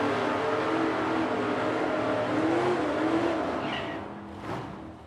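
Drag race cars, a Chevrolet Nova and a 2022 Chevrolet Corvette, roar down the strip with engines revving and droning loudly, then fade as they pull away into the distance.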